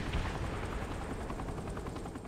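Helicopter attack in the Saints Row: The Third video game, a dense, continuous rotor thrum mixed with rapid gunfire crackle, steady and moderately loud over its short span.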